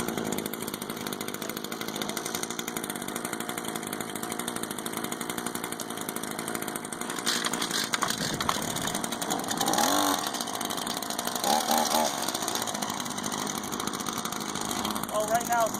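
An Echo chainsaw idles steadily after a cold start, a constant mid-distance engine drone running through the whole stretch while a person talks over it.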